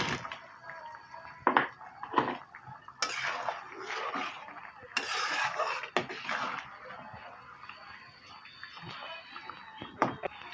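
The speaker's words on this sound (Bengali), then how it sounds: "তারপরে ভেজে রাখা বড়াগুলো ছেড়ে দেবো" Fried lentil fritters go into a pot of simmering dal made with banana flower and chana dal, heard as a series of clinks and knocks of utensils against the pot, with soft bubbling and kitchen handling in between.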